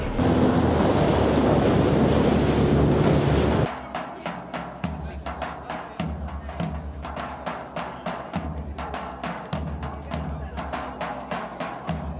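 Heavy sea waves roar as a dense, loud wash that suddenly cuts to a rhythmic series of sharp crashes and splashes breaking repeatedly, close by and with no talk.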